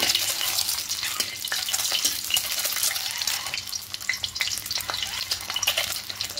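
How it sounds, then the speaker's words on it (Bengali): Boiled eggs frying lightly in hot oil with no salt or turmeric make a steady, close sizzle, with stirring and scraping scattered throughout. "ডিমগুলো বেশি লাল করবো না, শুধু হালকা করে একটু ভেজে নেবো"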